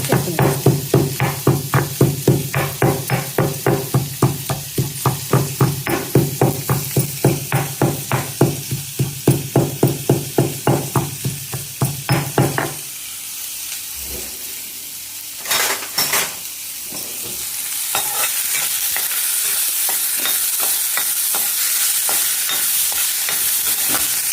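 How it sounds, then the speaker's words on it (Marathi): Chopped onion fries in a pan for a drumstick-leaf dish while a spoon scrapes in quick, regular rhythmic strokes for about twelve seconds. After that a steady sizzle carries on alone, with a few louder clatters. "कांदा तोडून जरा भाजत आहे मोठं"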